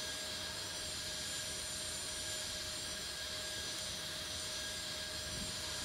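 An airliner lands at Lisbon airport in the Tower Simulator 3 air traffic control game, its jet engines giving a steady, loud roar with a constant whine throughout, no voices.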